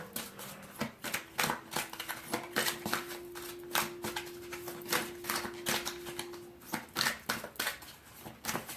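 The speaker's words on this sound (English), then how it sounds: "Give them a quick shuffle." Archangel Oracle cards shuffled quickly by hand, a close, crisp run of rapid riffling flicks and papery slaps in uneven bursts, with no voice over them.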